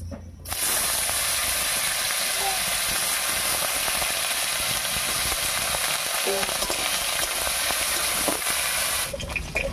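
Diced potatoes fry in hot mustard oil over a tempering of cumin seeds and bay leaves. A loud, dense, continuous sizzle starts abruptly and holds steady for several seconds, dotted with faint clinks, before cutting off near the end.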